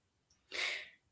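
A single short, breathy sneeze from a woman, rising sharply and fading within half a second, heard alone in a quiet room.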